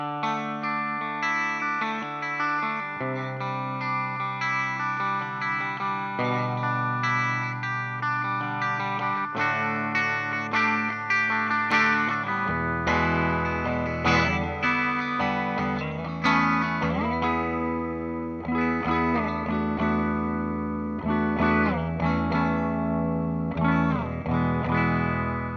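Electric guitar chords and sustained notes from a 2009 Moog E1 with its sustainer pickup switched out of phase, heavily processed with chorus and distortion, continuous and loud with shifting harmonics and no talking.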